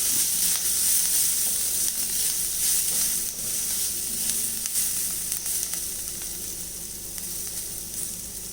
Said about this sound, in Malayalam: മഞ്ഞൾപ്പൊടി ഇട്ടൊന്ന് ഇളക്കി മിക്സ് ചെയ്യാം